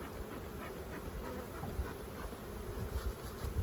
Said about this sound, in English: But there sure are a lot of bees.